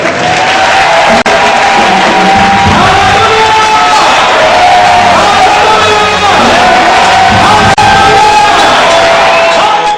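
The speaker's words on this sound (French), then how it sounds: "Au nom de Jésus, acclamons le Seigneur." Loud cheering and shouting from a church congregation, with voices whooping and calling out in waves, some applause, and sustained sung or shouted tones rising and falling close by.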